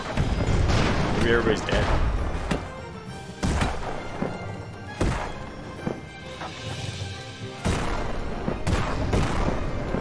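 Cannon fire in the airship battle game Airships Conquer the Skies: several loud booming blasts and crashes at irregular intervals, with a voice talking over the battle.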